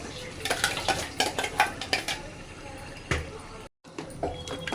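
A spoon stirring ground gongura paste into a pan for prawn biryani, with a run of scraping and clinking metal strokes over a soft sizzle, a brief break, then more stirring; a voice is heard alongside.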